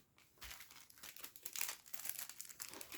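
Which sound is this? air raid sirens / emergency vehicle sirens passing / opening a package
opening a package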